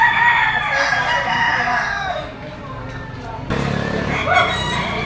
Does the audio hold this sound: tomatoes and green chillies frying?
no